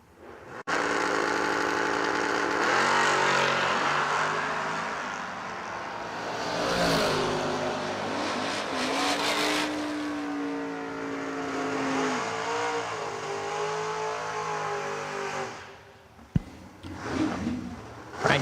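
Drag racing cars, including a Chevrolet S10, roar loudly as they accelerate, the engine pitch climbing through gear changes, then cutting off with a sharp bang and a brief rev at the end.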